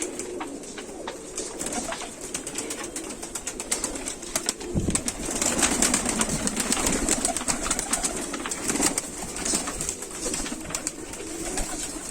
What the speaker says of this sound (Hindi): चाहे कबूतर इस टाइम पे खुले हुए हैं